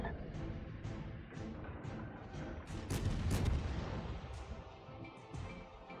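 Naval gunfire aimed at enemy battleships in a warship video game, with heavy booming salvos fired in quick succession, a louder cluster midway, and a low rumble carrying underneath.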